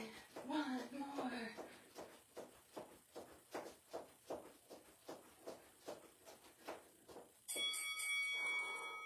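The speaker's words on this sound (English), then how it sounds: "Turn off that timer." A workout interval timer sounds during a fitness class, giving a steady train of evenly spaced beeps, then a louder continuous electronic alarm at the end.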